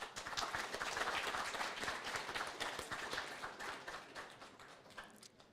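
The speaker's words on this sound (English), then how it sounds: "So another round of applause." An audience at an AI hackathon awards showcase gives a nominated team a round of applause, dense clapping that holds steady before gradually thinning out, heard from within the room.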